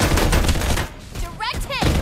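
Rapid automatic gunfire in a Farlight 84 team deathmatch, a continuous loud burst that breaks off midway while short game voice lines speak, then resumes briefly at the end.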